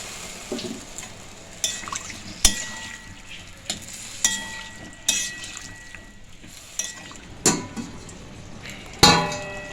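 Aloo-cauliflower and paneer curry stirred and sautéed in a pan: a spatula repeatedly scrapes and knocks against the metal in sharp, irregular strokes about a second apart, over a soft background sizzle.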